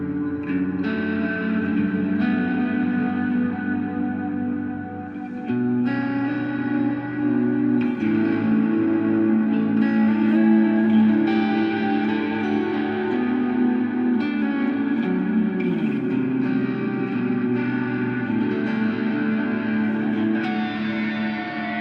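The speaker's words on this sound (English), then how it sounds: "just set it to have like a slightly longer pre-delay" A sustained instrument tone through the Plethora X1 reverb plugin with a longer pre-delay, drenched in reverb, with lingering echoed tails blending between changing notes; no voices.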